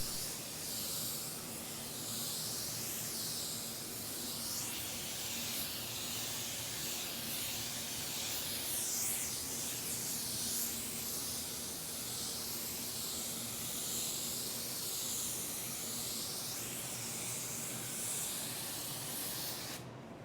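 An Iwata WS400 spray gun lays down a first coat of paint with a steady, airy hiss that swells slightly with each pass and holds for about twenty seconds, with no talk.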